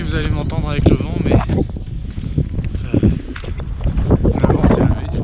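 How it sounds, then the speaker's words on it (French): Wind gusting across a mountain trail during the UTMB ultra-trail race, a rough, buffeting roar on the microphone with bursts of talk over it. "le vent s'est levé du coup."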